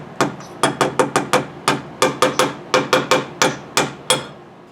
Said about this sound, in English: You simply hold the nail in position and start pounding.